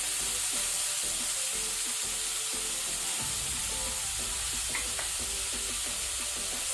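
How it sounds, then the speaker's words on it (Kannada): Onions fry in hot oil with cinnamon and cloves, a steady bright sizzle with rhythmic scraping stirs of a spoon in the pan, close and continuous. "ಈಗ ಇದನ್ನು ಮೀಡಿಯಂ ಟು ಹೈ ಫ್ಲೇಮಲ್ಲಿ ಕಲರ್ ಚೇಂಜ್ ಆಗೋ ತನಕ ಫ್ರೈ ಮಾಡ್ಕೊಳ್ಳೋಣ"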